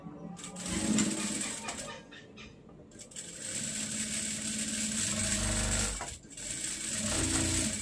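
A sewing machine runs a double seam along pants fabric, its fast needle chatter rising in bursts with short pauses between, close and steady, with no speech.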